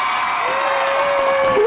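A street performance crowd cheers for buskers, a noisy mass of voices with one sustained high whoop that holds steady and then rises near the end.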